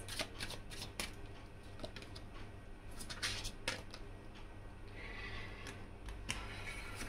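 Tarot cards being shuffled by hand close up, a quiet and continuous run of riffling flicks and soft slaps with no talking.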